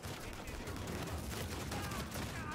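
Dense, continuous gunfire from a multiplayer match of the video game Uncharted 4, with rapid overlapping shots filling the whole stretch at a steady, moderately loud level.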